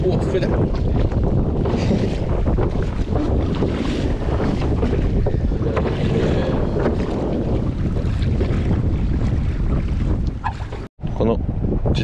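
A motorboat tows a hand-rowed fishing boat out to sea on a windy day. A steady engine-and-water drone plays under heavy wind buffeting on the microphone, with a brief dropout near the end.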